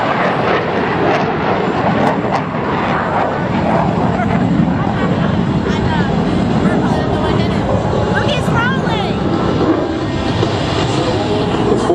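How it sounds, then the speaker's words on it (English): Blue Angels jets, Boeing F/A-18 Hornets numbers 5 and 6, approach an air show line in line-abreast formation at low altitude, a loud sustained broadband roar that fills the whole clip, with crowd or announcer voices underneath. "Blue Angels 5 and 6 are approaching the show line in a line abreast formation at 400"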